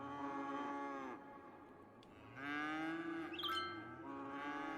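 Cattle moo in the Cities Skylines city-building game, with two long, drawn-out calls that rise and fall, heard close and alone at a fairly low level.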